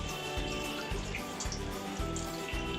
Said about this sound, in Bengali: সুতির কাপড়টাকে এইভাবে তুলে দেখতেই পাচ্ছেন রসটাকে চিপে নেবো, যাতে জলটা আমার পুরো বেরিয়ে যায়।